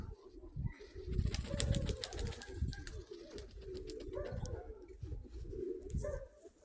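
Pigeons cooing in the evening dusk, low soft coos repeating steadily over several seconds with some wing flutter and background ambience, moderately close and continuous.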